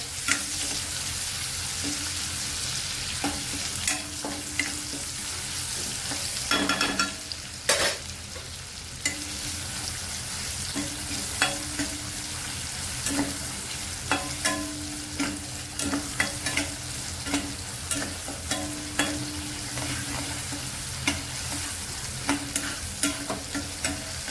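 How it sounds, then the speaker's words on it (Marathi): Chopped onion sautéing in oil, a continuous close hiss and sizzle with frequent light scrapes and taps of a stirring spoon, plus a brief louder burst of frying partway through, and no talking. "कांदा सुद्धा चांगला तेलावरती परतून घ्यायचा"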